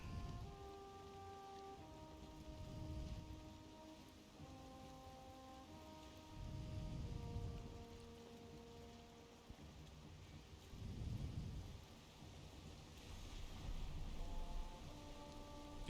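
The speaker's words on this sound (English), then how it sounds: "Especially with the stormy weather." Stormy weather in the video game Valheim: steady heavy rain patters throughout while several deep rolling thunder rumbles swell and fade at intervals, no voices.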